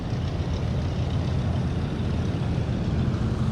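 Military truck in a World War II online match near Sainte-Marie rumbling steadily with a heavy low engine drone, continuous and fairly close, with no talk over it.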